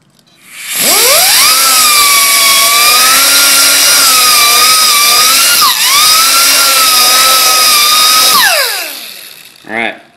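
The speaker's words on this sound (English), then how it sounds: "We're going to do that with a die grinder and a wire brush." A die grinder fitted with a wire brush scuffs the chrome surface of a Chevy 383 engine part. Its loud, high whine spins up, holds steady for about seven seconds, then winds down, followed by a brief faint knock.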